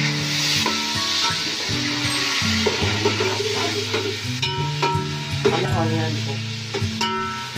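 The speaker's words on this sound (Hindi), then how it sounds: "ऑनियन को ब्राउन होने तक कुक करना है।" Chopped onions frying in oil in a karahi, with a steady sizzle, occasional stirring clinks and a low tonal hum running underneath.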